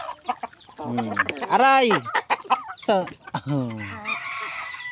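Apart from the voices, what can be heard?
chickens clucking at feeding time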